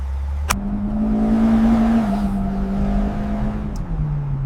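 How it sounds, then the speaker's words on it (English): A car engine hums steadily at a low, even pitch, close by, with a slight dip in tone as it settles, after a sharp click at the start. "The engine sounds perfect and the ride is smooth."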